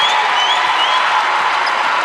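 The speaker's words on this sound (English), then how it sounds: "Big hand, big crowd here from CPA." A big crowd at a girls' high school basketball semifinal claps and cheers, a loud dense wash of applause that holds steady throughout.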